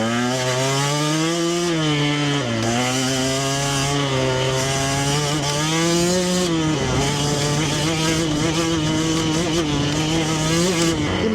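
Small vehicle engine, ridden in circles around a lot while cutting trails, revving steadily with pitch rising and dropping as gears are shifted and the clutch is worked; loud and close throughout.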